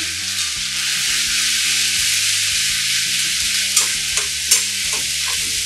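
Onion and garlic sizzling in oil with a whole dried red chilli, a loud, continuous close frying hiss with a few light taps of stirring near the end.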